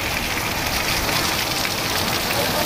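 Heavy downpour with strong wind in Bodeli, a dense, loud, unbroken roar of rain pounding surfaces from start to finish.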